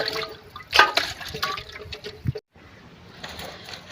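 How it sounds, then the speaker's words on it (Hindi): Clothes are washed by hand in water at a rural home, with irregular splashes, sloshing and drips close by, a brief silence, then softer watery movement. "मैं कपड़े धो रही हूँ, हमजा के कपड़े भी"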